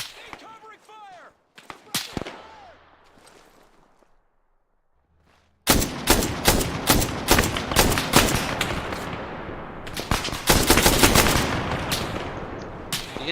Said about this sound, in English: I'm under heavy fire! Covering fire!